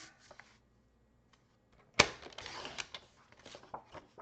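White cardstock is cut for a handmade card, with one sharp slicing snap followed by a brief rustle and handling noises, close and fairly quiet, after near silence.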